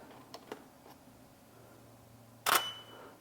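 A camera shutter fires once, a sharp close mechanical snap while photographing a medium format film negative, preceded by a few faint soft clicks in a quiet room.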